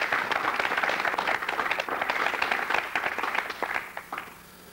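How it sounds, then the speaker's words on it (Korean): A studio audience at a 1985 Korean television talk show welcomes a modern dance professor with steady, moderately loud applause that holds for several seconds and then thins out and fades. "박수로 맞이합니다."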